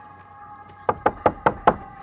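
Five quick, firm knocks land on a house door in an even rhythm, sharp and close, after a moment of quiet room tone.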